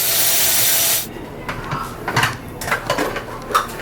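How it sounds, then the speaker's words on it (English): Black beans are spooned into a salad container with a few soft scraping and clattering knocks, irregular and close, preceded by a loud burst of broadband hiss that cuts off abruptly. "Adding half a cup of my beans."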